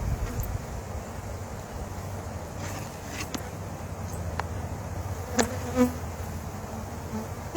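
Honey bees hum steadily around an opened hive with sticky propolis-sealed boxes, a soft continuous buzz close by, with a few individual bees zipping past the microphone and light outdoor rustle.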